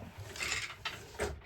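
Handloom mechanism clacking and thudding as cotton towels are woven in twill, two or three quiet wooden knocks and shuffles close by, with no talking.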